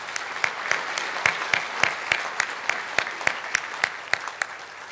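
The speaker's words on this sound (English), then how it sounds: "If I could have a round of applause for all of them." Applause from a moderate crowd at the Pier 27 cruise terminal celebration in San Francisco, with several sharp nearby claps standing out in an irregular rhythm above a steady wash of clapping.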